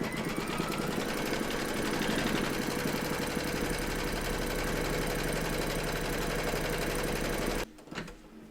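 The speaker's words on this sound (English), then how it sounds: "Pop your hoop into your machine and stitch round number 2 to secure it." An embroidery machine stitches batting onto an in-the-hoop glasses case with a fast, steady mechanical whir and rattle, loud and close, stopping abruptly near the end and leaving quiet clicks.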